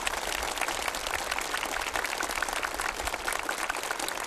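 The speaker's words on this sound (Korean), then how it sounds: "개관식이 끝난 후 참가자들의 열렬한 박수 속에" Warm, sustained applause from the participants after the opening ceremony of a newly built theatre for the Samjiyon orchestra, a dense, steady wash of clapping hands that carries evenly throughout with no voices on top.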